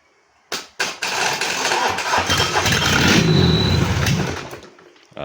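A Mitsubishi 4D56 diesel engine cranks with a couple of short bursts, then catches and runs with a rough, loud clatter that swells a little before settling for a few seconds.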